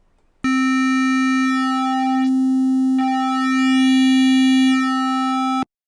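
A steady electronic test tone with crossover distortion added to its low-level portion, a sustained buzzy harmonic-rich note running alone for about five seconds with subtle shifts in texture partway through.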